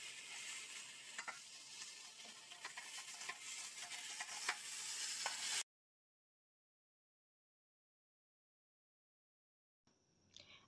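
Young jackfruit and chana dal cooking in a pan, a loud continuous sizzling hiss with faint stirring clicks for about five seconds, then near silence before a brief return of sizzle at the end.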